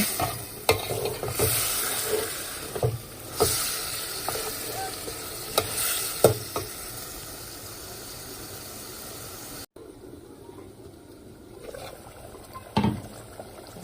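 Egg and potato curry is stir-fried in a pan, a constant near sizzle with rhythmic spatula scrapes and knocks, quieter after a brief cut, then a few more stirs.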